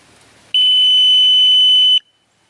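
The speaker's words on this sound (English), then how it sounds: "push the set limits button right here until the alarm goes off and the light comes on" A Mighty Mule MM462 gate opener sounds its alarm after the set limits button is held: one loud, steady, high-pitched electronic beep that lasts about a second and a half, then stops sharply.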